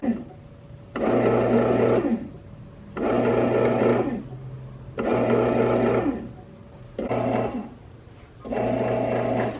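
A bread machine kneading Italian bread dough runs in repeated whirring bursts of about a second or two, separated by short pauses, close and fairly loud.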